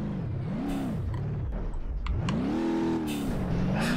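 A car engine in BeamNG.drive revs hard from too much throttle, its pitch rising and falling in repeated swells before climbing into a sustained high whine, loud and close with no voices.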